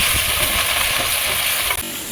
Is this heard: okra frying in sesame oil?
yes